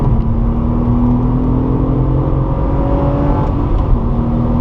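A Porsche 997 Targa 4S accelerates on the Circuit de Bresse race track, its engine holding a loud, steady drone with a slowly rising whine heard from inside the car, with no talking.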